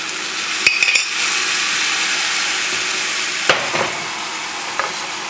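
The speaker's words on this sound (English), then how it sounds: "Now I'm going to add the white wine." White wine poured into a hot pan while cooking a turkey dinner with peas and peppers, giving a loud, steady sizzle up close, with a few sharp clinks of a utensil against the pan.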